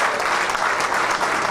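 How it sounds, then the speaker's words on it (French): Audience at a gala applauds steadily, a dense wash of clapping hands that stays even and fairly loud for the whole short stretch. "Il faut l'applaudir vraiment fort"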